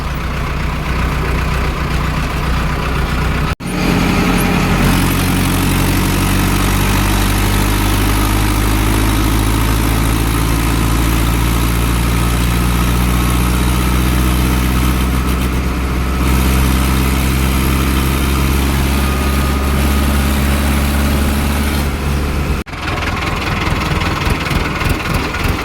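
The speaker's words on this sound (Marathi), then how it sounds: "मी ट्रॅक्टर घेऊन चाललोय" A tractor engine runs steadily and loudly nearby, a continuous low, throbbing drone with a strong vibrating rumble. The pitch drifts slightly up and down as it drives on a highway, with two brief sharp breaks in the sound.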